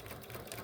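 A sewing machine back stitches while a log cabin quilt is pieced, a brief, close, continuous mechanical whir of rapid stitching with no talk.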